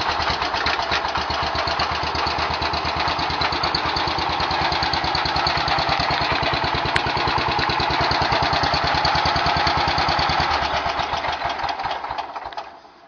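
A Wheel Horse lawn tractor engine runs loud and steady after a cold start on a chilly morning, its rapid even firing rhythm holding for about twelve seconds before cutting off.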